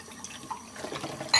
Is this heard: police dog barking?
no